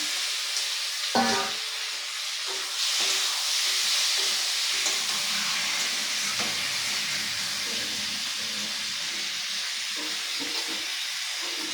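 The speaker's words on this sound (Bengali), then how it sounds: "এখন আমি মাংসটা দিয়ে দিব দিয়ে ওগুলোর সাথে আমি ভেজে নিব" Goat meat sizzles and crackles in a hot spiced pan, a steady loud hiss with occasional stirring scrapes and sharp pops throughout.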